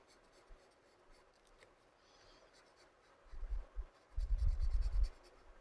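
A pen scratches across paper while inking sections of a drawing, soft rubbing at first, then louder, closer bursts of rapid strokes near the end.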